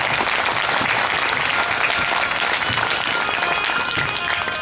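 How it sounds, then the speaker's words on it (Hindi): Loud, sustained applause from a crowd welcoming a Bhagavat Shastri acharya to a home gathering, dense steady clapping filling the whole stretch without pause. "जोरदार ताली से उसका स्वागत करो"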